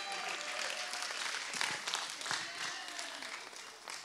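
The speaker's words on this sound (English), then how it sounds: "You're applauding King Jesus." Applause from a church congregation during a worship service, a dense, continuous roar of clapping mixed with faint cheers that holds throughout at a moderate distance.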